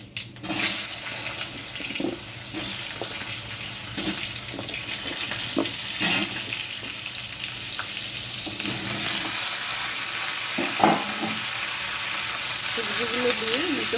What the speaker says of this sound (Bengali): সবজিগুলো দিয়ে একটু ভাজা ভাজা করে নেব